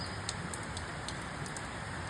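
Heavy rain falls steadily outside, a dense, even hiss that stays constant throughout, with a few faint bird chirps breaking through above it.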